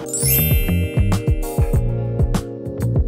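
A bright, sparkling run of bell dings and chimes, several quick tones stacked into a short jingle, loud and close with no talking.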